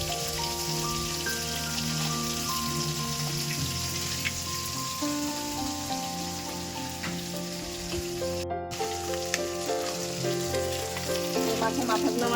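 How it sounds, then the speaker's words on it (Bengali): A fish head fries in oil in a pan, giving a dense, continuous close-up sizzle and crackle that holds steady throughout, with a faint tonal hum underneath. "লাল লাল করে ভাজা হয়ে গেছে আমি একটু ভেঙে ভেঙে দিয়েছি"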